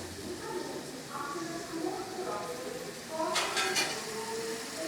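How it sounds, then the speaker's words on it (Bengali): Chopped water lily stems and fried kajli fish go into a pan for a home-cooked curry, giving soft sizzling and stirring with a brief clatter of utensils against the pan, close by and steady. "এই শাপলাটা দিয়ে দেবো তার সাথে এই মাছ ভাজাটাও দিয়ে দেবো"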